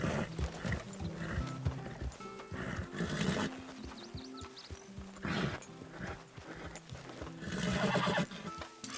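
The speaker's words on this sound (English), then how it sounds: "A lot of horses we got." Several horses whinny and neigh in Red Dead Redemption 2, with clip-clopping hooves underneath, loud and close with overlapping calls.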